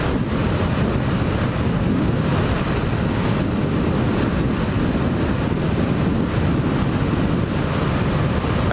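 A Honda CB500F motorcycle riding along Pine River Road, heard as a steady, loud, unbroken rush of wind roar that buries the engine for the whole stretch.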